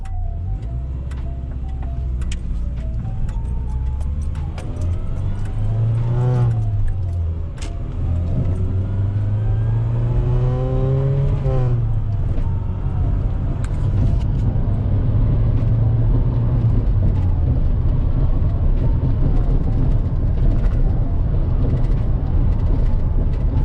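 A Chevrolet S10 pickup with a manual transmission driving, a loud continuous engine drone and road rumble with rising pitch sweeps as it accelerates through gears, heard from inside the cab.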